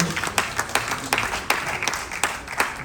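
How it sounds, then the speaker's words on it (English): An audience applauds at an event honouring a late person, a dense wash of many hands clapping with sharper individual claps standing out in an uneven rhythm, steady and fairly loud. "as you are clapping for me"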